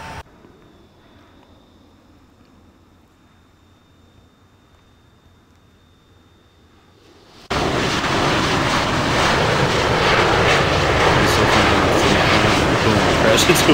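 Flight-simulator aircraft engine in Infinite Flight: quiet low hum at first, then an abrupt jump to a loud, dense broadband roar as power is pushed back up, holding steady to the end.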